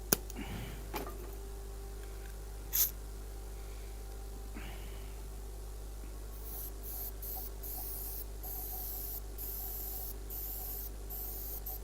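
An airbrush hisses in intermittent spraying bursts in a woodturning workshop during finishing of a turned piece, the airy spray carrying over a steady low hum with a few light knocks earlier.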